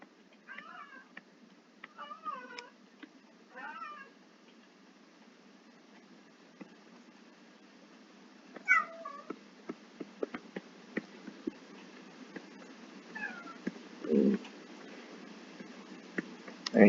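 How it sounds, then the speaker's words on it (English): A cat meows several times in short bursts near the start, then again more faintly later, with quiet ticking sounds in a calm room. "And you maybe hear my cat in the background."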